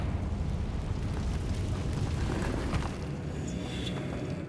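A Confringo fire spell explodes in Hogwarts Legacy, a steady roaring rumble of blast and crackle that holds loud and dense throughout, with no voices over it.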